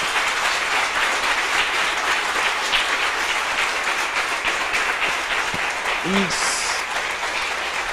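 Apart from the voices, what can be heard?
congregation applauding loudly in church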